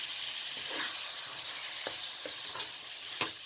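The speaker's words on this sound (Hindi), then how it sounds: "अब इसके अंदर आप चिकन को शामिल कर लें।" Chicken pieces frying with light-browned onions in hot oil for palak chicken, a steady loud sizzle with occasional stirring scrapes and clicks.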